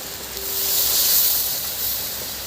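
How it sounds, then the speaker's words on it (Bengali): Hot water poured into hand-mashed red lentil dal with pumpkin greens, a steady broad hissing, splashing pour that swells in the middle and carries on for a couple of seconds, close and fairly loud, with no talking. "বন্ধুরা দেখুন কতটা জল আমরা দিয়ে দিলাম"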